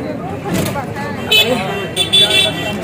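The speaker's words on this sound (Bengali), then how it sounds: "রাস্তাঘাটে ভালো ভিড় আছে" A crowded street heard from a cycle rickshaw on New Year's Day, with steady traffic rumble and a few short car horn toots, mostly beneath close, continuous talking.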